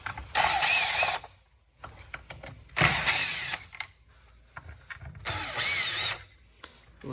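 Screws are driven out to unmount the transformer of a CD1500P ozone generator: three loud whirring bursts from a power driver, separated by quieter pauses filled with small clicks and handling sounds.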